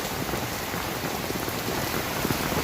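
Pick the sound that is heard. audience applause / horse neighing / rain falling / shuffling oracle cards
rain falling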